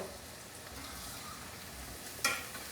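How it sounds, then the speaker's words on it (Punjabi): Cauliflower and bread pakoras fry in hot oil, a dense, steady sizzle heard close and alone, with a single brief clink near the end. "ਦੋ ਵਾਰ ਫਰਾਈ ਕਰਨ ਦੇ ਵਿੱਚ ਨਾ ਫਿਰ ਐ ਚੰਗੀ ਤਰ੍ਹਾਂ ਪੱਕ ਜਾਂਦੇ ਨੇ ਪਕੌੜੇ"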